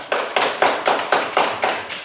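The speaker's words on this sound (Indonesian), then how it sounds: "Baik, tepuk tangan untuk kelompok ini." Elementary school classroom clapping for a student group in Indonesia, a patterned rhythm of about eight loud, evenly spaced group claps in unison, close and without talk.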